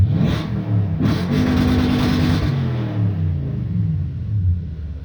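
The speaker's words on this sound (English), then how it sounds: "You can kind of hear the difference between the stock exhaust and then a full Flowmaster Outlaw." Toyota Tundra pickup with an 8-inch lift and a full Flowmaster Outlaw exhaust revs loudly and close, a deep, throaty rumble that rises and falls steadily throughout.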